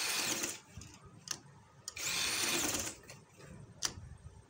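An electric sewing machine stitches a neck design on fabric in short, close bursts of fast whirring, pausing briefly between runs, with faint clicks in the gaps.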